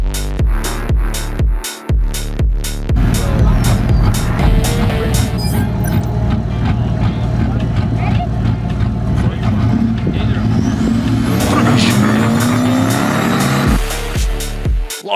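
A Landcruiser and a buggy race head-to-head on an off-road dirt track, loud engines revving hard with tyre noise throughout, rising as the vehicles accelerate close by, with a commentator's voice over the roar.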